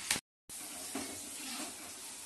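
Sweet corn kernels fry in a pan for crispy corn, a soft, steady sizzle that stays quiet and close, broken by a brief moment of silence near the start.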